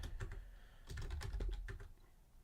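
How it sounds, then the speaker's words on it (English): Someone types on a computer keyboard during a live basketball show. Quick, close clicks come in two uneven bursts, with a short pause between them, and no one talks. "Let me finish typing that."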